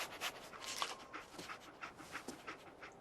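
Dogmeat, the German Shepherd companion in Fallout 4, pants in quick, soft rhythmic breaths close by, faint and steady over a low background.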